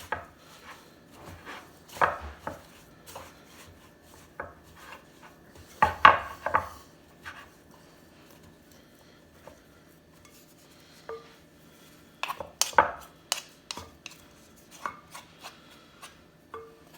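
Sourdough dough being mixed by hand or spatula during autolyse, flour worked into the wet mass in a bowl; soft, irregular scraping and knocking bursts come in clusters with quiet gaps, close and moderately loud, no talking.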